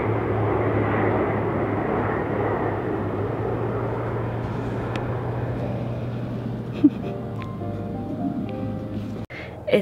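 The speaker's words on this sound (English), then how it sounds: "It's been awesome watching the planes come in" An airplane arriving at the Air Tattoo air show drones with a steady low engine hum and broad roar that slowly fades, joined near the end by faint background chatter and a couple of sharp knocks.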